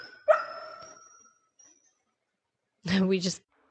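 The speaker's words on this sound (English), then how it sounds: "she's a very vocal puppy, so you might hear some of that" A puppy lets out a sharp yelp that trails into a whimper, and after a pause gives a short, throaty burst of barking, both close and fairly loud with quiet in between.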